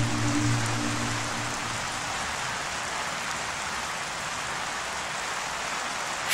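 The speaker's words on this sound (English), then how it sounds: "Don't stand in the rain." Steady rain pours outside a school, a dense even hiss on surfaces that holds throughout, with a low droning tone fading out early on.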